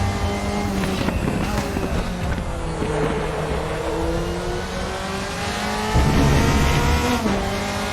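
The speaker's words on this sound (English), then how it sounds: "You can hear those tires squealing a bit" Tires squeal on a 2003–2005 DTM race car at the Nürburgring in RaceRoom, a thin whine sitting over a loud, steady engine drone that swells near the end.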